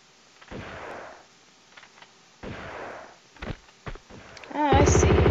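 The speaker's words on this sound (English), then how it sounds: "Is someone shooting at me?" Gunfire aimed at the player in the video game Tomb Raider 2, two muffled booming shots followed by sharp short cracks and a louder burst at the end, with a little talk.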